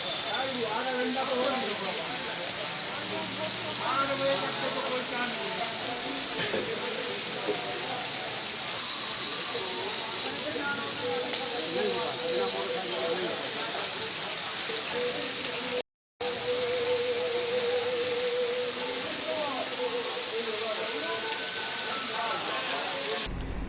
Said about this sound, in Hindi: इसके बाद तेज हवाओं के साथ जोरदार बारिश का दौर शुरू हो गया